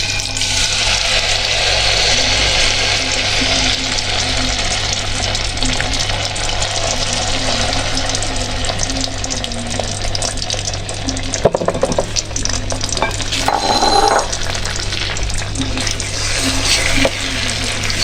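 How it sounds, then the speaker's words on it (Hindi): Milk-soaked semolina frying in desi ghee in a pan for halwa, a constant loud sizzle with stirring scrapes and a steady low hum underneath. "इसको अच्छी तरह भूनेंगे पानी खुश्क होने तक।"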